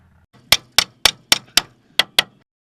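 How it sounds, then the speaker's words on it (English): A hammer strikes a suspension part on a 2010 Toyota Matrix seven times in a quick, even rhythm. The blows are sharp and loud, metal on metal, and each rings briefly before the next. "I'll just go ahead and bang that with the hammer and it should pop out."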